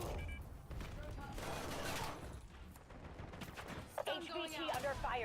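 Gunfire in a shooter video game comes as scattered volleys of sharp shots over a busy battle soundscape, with louder, closer bursts near the end.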